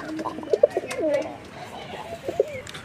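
Desi pigeons coo in short soft bursts, several overlapping calls close by at a pigeon sale, with a faint background murmur.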